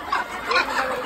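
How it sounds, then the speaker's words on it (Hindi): A desi village rooster, just caught, gives a few close, agitated clucking calls in quick succession, loud and alone. "देखो भैया पकड़ लिया गया है देसी मुर्गा"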